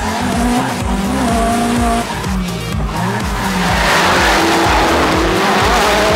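Several cars drifting together in a Japanese team tandem drift run, engines roaring loud and continuous with repeated tire squeals and skids over the whole stretch.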